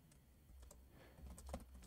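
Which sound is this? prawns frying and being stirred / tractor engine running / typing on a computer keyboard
typing on a computer keyboard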